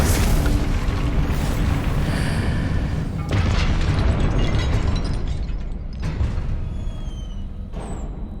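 Booming spell explosions from a Confringo-style blast in the video game Hogwarts Legacy, a loud continuous rumbling burst sustained for several seconds with a fresh blast near the six-second mark.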